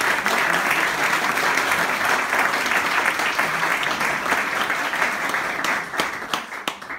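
Audience applause at a book presentation, loud, dense clapping from a crowd sustained for about six seconds before thinning into a few scattered claps.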